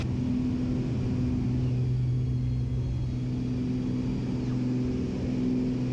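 Aircraft landing gear cycling in flight, the gear motor running as a steady low drone with hum over continuous engine and airframe rumble, close and sustained throughout.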